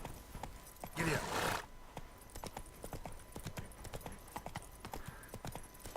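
Horse hooves clip-clopping at a steady trotting rhythm in The Witcher 3: Wild Hunt, close and clear, with a short burst of rushing noise near the start.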